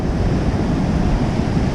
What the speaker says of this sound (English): there's some nice waves